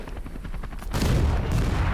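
Gunfire in the battle game Call to Arms, with rapid bursts of shots followed by a heavy dense roar of fire and blasts, loud and continuous.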